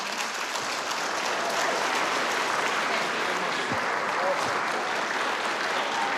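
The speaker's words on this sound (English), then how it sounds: "One more round of applause for Erica Perry." A fresh round of audience applause for guest Erica Perry: dense, even clapping from a crowd, steady and fairly loud for several seconds with no talk over it.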